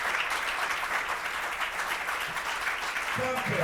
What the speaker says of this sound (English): Give her another big clap.